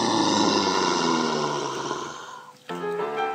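A voice imitates a zombie with a long, guttural, rasping groan that trails off, followed by a shorter low grunt, close and alone.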